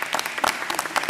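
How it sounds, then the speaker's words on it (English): A roomful of people at a school choice roundtable applauds the moderator, brisk dense clapping up close that keeps going without a break. "my first request would be to give Tammy a round of applause"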